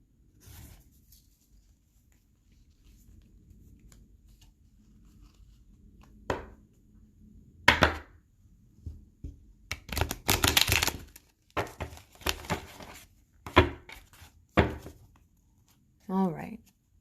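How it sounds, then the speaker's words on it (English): Tarot cards being shuffled by hand: brief riffling and flicking bursts at irregular intervals, clearest mid-clip, with quiet pauses between them and a short voice near the end. "I'm going to do one more just because I don't feel good about that last shuffle."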